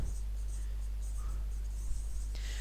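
Chalk or marker strokes on a classroom board during a history lesson, a faint scratchy writing sound repeating in short bursts over a low steady hum, with no speech.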